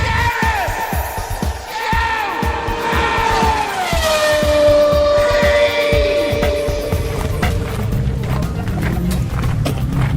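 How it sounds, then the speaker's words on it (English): A Subaru Impreza with a very large, loud exhaust passes the Le Mans 24 Hours campsite on the road, its engine note rising, holding and then falling away as it goes by. "That was a Subaru Impreza with an exhaust the size of a dustbin"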